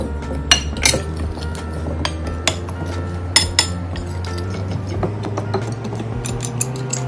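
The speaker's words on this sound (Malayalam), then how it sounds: "ഫോർക്ക് കൊണ്ടാണ് മിക്സ് ചെയ്യുന്നത്" Cake batter being mixed with a fork in a bowl, with repeated clinks and taps of metal against the dish in an uneven rhythm, close and moderately loud.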